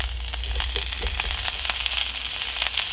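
Cut asparagus sizzles in butter sauce in a pan, giving a loud, steady, close hiss with scattered crackles and pops throughout.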